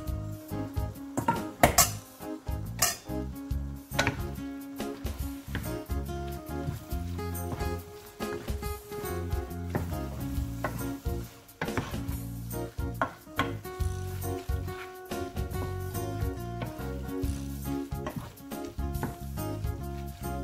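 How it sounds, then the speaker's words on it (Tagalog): Vegetables are stirred into pancit canton noodles in a pan, producing busy scraping, clattering utensil knocks and light sizzling in uneven bursts throughout, close and fairly loud, without voices. "pwede na natin ihalo itong mga gulay na sineparate natin kanina"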